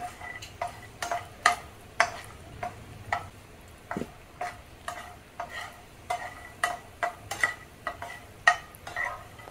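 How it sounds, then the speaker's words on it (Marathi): Pistachios frying in a pan, a quiet sizzle under a steady rhythm of regular spoon scrapes and clinks repeating roughly twice a second, close by. "पिस्ता घेतलेले आहेत 15 ते 20, ते पण आपण तळून घेऊया"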